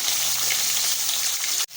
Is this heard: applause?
no